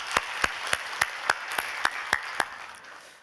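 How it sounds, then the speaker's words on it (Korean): A church congregation claps, heard as a steady run of sharp, evenly spaced claps about three or four per second in a reverberant hall, fading slightly toward the end. "우리 먼저 하나님께 영광 돌리며 수고했다고 박수 한번 해주세요."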